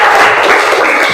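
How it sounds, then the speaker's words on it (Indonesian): Brief burst of classroom clapping from students during a reproductive health lesson, a dense, steady patter at close range with no voices over it. "Tepuk tangan."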